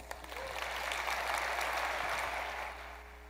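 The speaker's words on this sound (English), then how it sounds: "You guys can give an extra round of applause for Ben" Steady applause from an audience at a Microsoft Teams and Skype presentation, a dense, continuous patter of clapping that holds evenly for about two and a half seconds before tapering off, with no voices over it.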